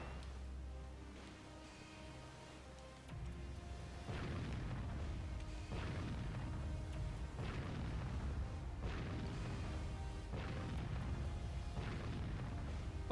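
Naval gunfire from warships in the Warship Gunner 2 video game, a run of heavy booming shell blasts and explosions in steady rolling succession, loud and continuous with no voices.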